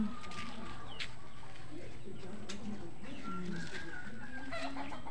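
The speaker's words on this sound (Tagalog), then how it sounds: "Lumabas yung manok guys" Chickens cluck and murmur close by in an outdoor yard, with soft scattered calls over steady background noise.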